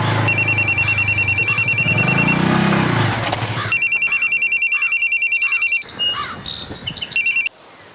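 A telephone rings in repeated bursts of rapid electronic trills, loud and close, pausing briefly before ringing again and then stopping near the end, with faint background sounds in the gaps.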